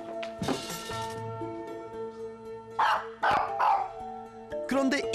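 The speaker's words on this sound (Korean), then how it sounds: "블로킹 교육 중 갑자기 심하게 짖기 시작하는" A dog barks hard and loudly during blocking training, several sharp barks in bursts over a steady background tone, close by, with a few whimpery yips between.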